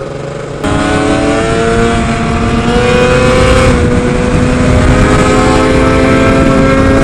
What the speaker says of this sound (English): This is a proper quick scooter.